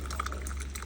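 Homemade rose water poured from a container, a brief, quiet, steady trickle of liquid with a low background hum.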